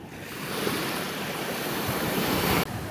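Cold ocean surf on the Namibian coast, a continuous roar of breaking waves mixed with heavy wind buffeting the microphone, loud and unbroken until a sudden drop near the end.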